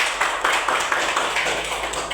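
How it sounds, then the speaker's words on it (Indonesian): Children in a primary-school classroom clap together in a steady burst of applause lasting a couple of seconds, fairly loud and close, with no speech over it. "mantap, tepuk tangan"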